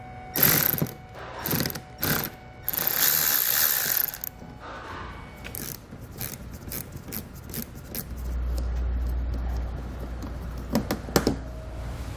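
T15 screws being backed out of car trim with a ratcheting driver while installing a hidden trailer hitch, with bursts of clicking ratchet and mechanical rattles followed by quieter fiddling and a low rumble, close, no speech.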